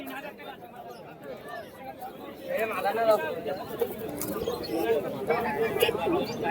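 Pigeons coo amid crowd chatter at the Beldanga pigeon market in Murshidabad, soft throaty calls rising and falling under a busy buzz of voices that swells partway through.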